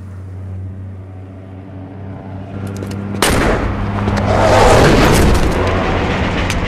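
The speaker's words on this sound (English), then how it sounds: "That was a hell of an explosion" In the Saints Row video game, a sudden huge explosion bursts after a quiet humming lead-in, followed by a long loud roaring rumble of debris and fire that swells and slowly fades.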